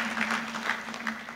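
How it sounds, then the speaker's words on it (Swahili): An audience at an education reform meeting in Dodoma claps in a moderate, steady patter of many hands, fairly soft and continuous. "Naomba tujipigie makofi."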